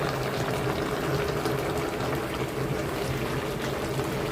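A pot of curry simmers with a dense, steady bubbling hiss that stays even and close throughout.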